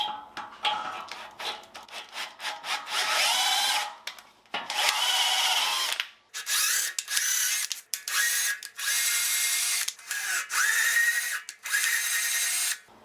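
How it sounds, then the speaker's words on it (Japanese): A tap chases threads on the rear crossmember of a Mazda RX-7 FD3S under restoration, with a drill-like tool whirring in short repeated bursts and brief gaps between them, close and fairly loud. "次はリアのクロスメンバー。 とりあえずタップさらいます。"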